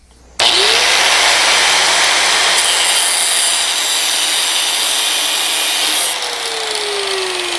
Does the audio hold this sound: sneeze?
no